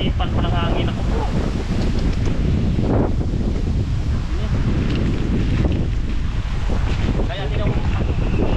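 Strong wind gusts buffet the microphone outdoors at a lakeside carp fishing spot. The roar is loud and continuous, with rushing, uneven blasts that sound like nearby water and waves.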